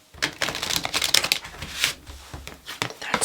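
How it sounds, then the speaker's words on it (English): Tarot cards are shuffled by hand in quick, uneven bursts of riffling and slapping, close and crisp, with short pauses between flurries. "I like to get a little more real-time shuffling"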